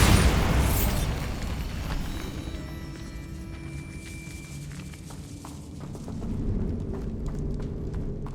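In Hogwarts Legacy, a Bombarda spell bursts with a loud, rumbling boom that fades into a lingering debris rumble inside a decaying catacomb, no voice over it.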